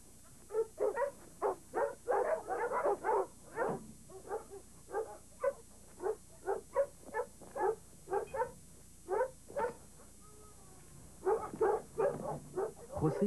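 Several farm dogs on a Patagonian ranch bark in a steady series of sharp, fairly close barks, with a brief whimper and gap before the barking picks up again.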